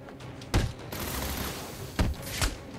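Gunfire in the video game Batman Arkham City: a few loud separate gunshots with booming low ends over a rough background of game noise, no speech.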